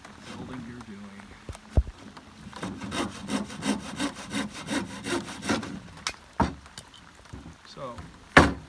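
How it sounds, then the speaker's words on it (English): A handsaw cuts through a wooden 5-and-12 hip rafter in a run of rhythmic back-and-forth strokes, with a few sharper knocks and some low speaking nearby. "just take a handsaw and finish it off"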